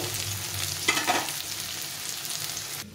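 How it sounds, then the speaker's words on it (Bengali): Soy chunks and onion frying in oil give a steady, close sizzle, with a brief burst of stirring scrapes near the middle and an abrupt stop at the very end. "সয়াবিনটা, পেঁয়াজটাকে ভালো করে ভেজে নেব"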